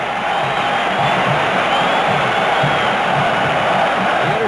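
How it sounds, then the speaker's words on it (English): A packed football stadium crowd at Notre Dame roars after an interception in a 1968 Purdue game, a loud, continuous broad roar of cheering voices with no breaks. "listen to this crowd at Notre Dame now"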